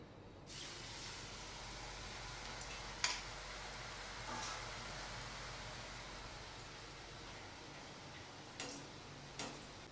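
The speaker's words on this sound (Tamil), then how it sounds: "வாங்க நம்ம எண்ணெயில போட்டு எடுத்துருவோம்" Curd murukku dough deep-frying in hot oil makes a steady, soft, even hiss that runs throughout, with a few faint sharp ticks and pops over it.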